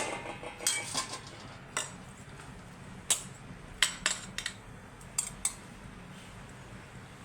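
A metal spoon taps and scrapes against a cooking pot while potatoes are pressed level in a chicken curry, making a run of irregular, sharp clinks close by.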